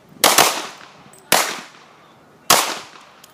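Three handgun shots ring out one at a time at an outdoor shooting range during a concealed handgun class. Each loud, sharp crack is followed by a short echoing decay, with roughly a second between shots.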